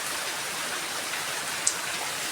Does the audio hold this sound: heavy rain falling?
yes